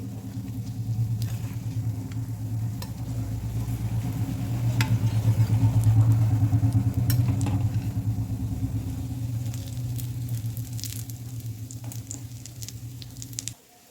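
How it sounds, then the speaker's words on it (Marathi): Colocasia leaf vadi, alu vadi, fries in a pan on a gas stove, giving a steady soft sizzle and patter of oil that stays close and even throughout. "मी दोन्ही साईडनं मस्त वडी फ्राय करून घेतली आहे"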